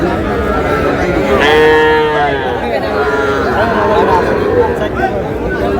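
Sahiwal bull calves low at a busy Kushtia cattle market, with a drawn-out moo rising above constant crowd chatter and the steady hubbub of traders nearby.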